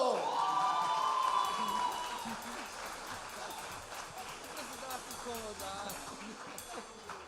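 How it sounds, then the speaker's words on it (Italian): Church congregation applauding during a worship service, a sustained mix of clapping and crowd cheering that starts strongest with a loud whoop, then settles into a fainter, steady roar. "Applauso, applauso!"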